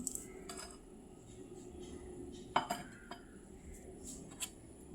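Masala and curd being mixed in a bowl for Hyderabad dum biryani, faint spoon scrapes and a few sharp clinks against the bowl over a low background hum, with no talk.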